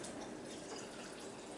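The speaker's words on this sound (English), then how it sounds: "now I'm going to add 2 cups of water" Two cups of cold filtered water, drawn from a fridge dispenser, poured steadily for a soup, a continuous soft splashing flow heard alone.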